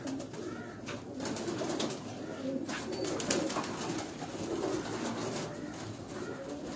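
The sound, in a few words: Kamgar pigeon cooing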